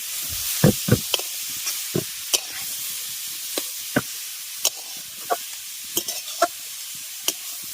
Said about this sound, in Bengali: ঘিয়ের সঙ্গে গাজরটাকে খুব ভালোভাবে আগে মিশিয়ে নিচ্ছি